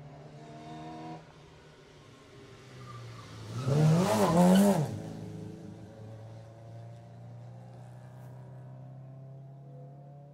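Saab rally car number 64 passing on a stage of the 2018 Jersey Rally, engine building from a distant hum to a loud, brief roar with a pitch drop as it goes by, then fading away with a lingering drone.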